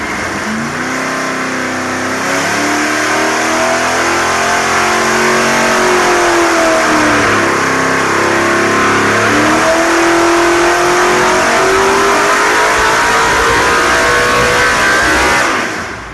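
A loud 542-horsepower V8 engine revs up steadily past 7,000 RPM on a dyno, its pitch climbing and wavering in a sustained roar before cutting off at the end.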